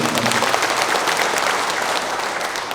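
Applause from the crowd at a national joint memorial ceremony for civilians killed around the Korean War, a dense, steady clapping that fills the whole moment and fades slightly toward the end.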